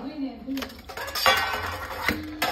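A metal plate (thala) handled at a home meal for serving rice, with several light clinks and clatters of dishware near the microphone while voices talk in the background.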